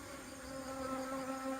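Bees returning to a hive box buzz steadily in a close, continuous drone with a slight wavering hum, no voices.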